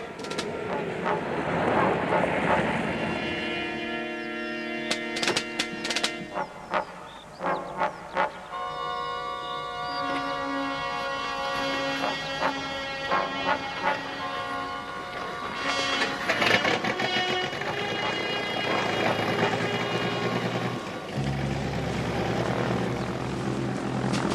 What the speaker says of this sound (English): the plane's warming up